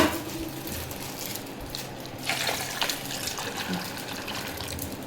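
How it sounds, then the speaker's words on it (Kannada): Water splashes and trickles steadily into a container of pistachios set to soak, with a brief louder gush partway through and faint clinks. "ಇದ್ರೊಳಗೆ ನೀರು ಹಾಕಿ"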